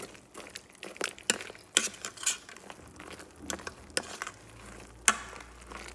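Carrots and other vegetables stirred into a pot, with soft scrapes, clinks of a utensil against the pot and light sizzling patter, irregular and close, no talk.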